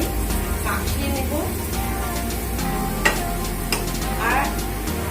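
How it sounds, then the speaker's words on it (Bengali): Mashed boiled potatoes being mixed by hand in a bowl for a vegetarian bread chop filling, with soft squelching and pressing, a couple of light knocks, and a voice talking over it. "আমি আলু সেদ্ধটাকে ম্যাশ করেই রেখেছি, এর মধ্যে এবারে একটু মাখিয়ে নেব।"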